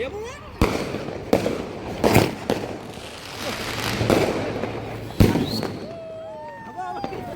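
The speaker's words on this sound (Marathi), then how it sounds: "दिवाळीनिमित्त सगळेजण इथे फटाके फोडतायत" Diwali firecrackers burst at Worli Sea Face, Mumbai, in several sharp, loud cracks spaced a second or two apart, followed by high rising whistles, with a crowd murmuring throughout.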